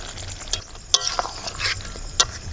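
Mutton curry being sautéed and stirred in a pan at home, with soft sizzling under a few sharp clinks and scrapes of a spatula against the metal, close and moderately loud, no talking.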